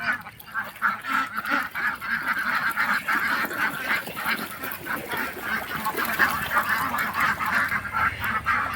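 Kuttanad native ducks, including drakes, crowded at Kuruppanthara jetty in Kerala, keep up a busy, continuous stream of nasal quacks and honks from a close flock.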